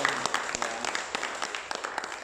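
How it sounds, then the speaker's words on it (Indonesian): Applause at a church gathering, a short stretch of scattered, moderately loud clapping from a small audience with uneven, overlapping claps and no voices. "Kasih tepuk tangan untuk Bu Mimi."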